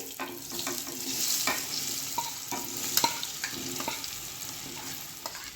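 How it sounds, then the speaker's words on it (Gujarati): Marinated potatoes shallow frying in hot oil for a Punjabi-style aloo gravy dish, giving a steady close sizzle with scattered pops and light stirring clicks throughout, no voices. "આપણે જે મેરિનેટ કરેલા બટેટા છે એને તેલમાં થોડા સેલો ફ્રાય કરી લેશું"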